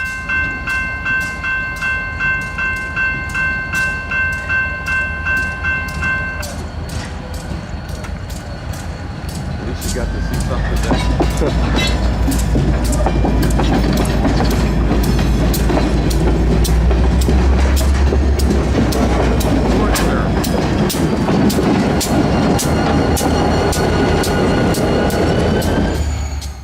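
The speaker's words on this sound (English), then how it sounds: "The industry getting served today hosts a stub-end track, meaning the locomotive must shove cars into their siding." A freight train locomotive shoves cars into a stub-end industry siding in Central Florida, with steady rumbling, clanking and squealing wheels growing louder and closer, a horn-like tone early on and a voice speaking briefly.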